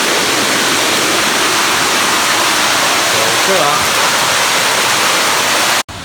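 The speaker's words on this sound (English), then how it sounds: "Now this is a natural stream which filters the water for the Lido back in its day" A natural woodland stream that once fed an old lido rushes steadily as loud, broadband water noise throughout, with someone speaking briefly over it.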